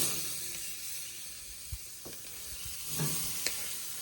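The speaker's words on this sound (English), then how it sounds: "So I'm going to go ahead and throw these steaks on." Steaks hit the hot grate of an XL Big Green Egg grill with coals near 550 degrees, giving a soft continuous sear and hiss with a few small pops and a louder crackle near the end, no talking.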